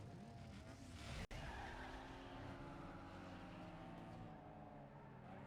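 A front-wheel drive Peugeot in Need for Speed: Underground 2 drifts with a sustained tire squeal over a constant engine drone. The sound holds steady, broken once by a split-second dropout, with no talking.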